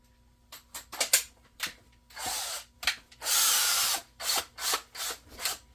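An old DeWalt power drill whirs in short bursts, a string of quick triggered spins broken by two longer steady runs, loud and close in a quiet workspace.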